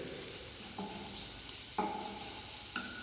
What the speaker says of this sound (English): cumin splatters, I will add chopped ginger. Saute it a bit.